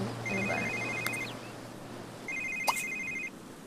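A telephone rings in The Sims 3 with two electronic trilling bursts separated by a pause, heard over quiet background sound.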